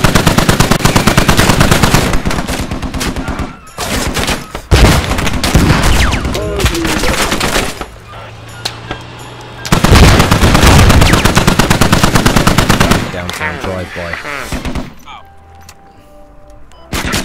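Gunfire in the game Squad: loud, rapid automatic bursts rattle close by, broken by short pauses and quieter stretches, with occasional voices in the background.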